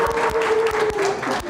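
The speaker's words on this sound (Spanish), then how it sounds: "un aplauso para el dinero, efectivamente." An audience in a church talk setting claps briefly and fairly close, with a burst of mixed clapping and faint crowd murmur.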